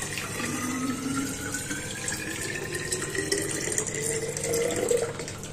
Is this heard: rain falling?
no